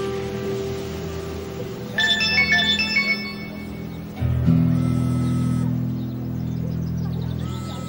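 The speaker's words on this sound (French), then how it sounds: "Bah, je t'en prie, réponds au téléphone, Yacine" A telephone ringtone plays as a melodic electronic tune with bright repeating tones, rising louder partway through and continuing steadily over a low background hum, with no talk during the ringing.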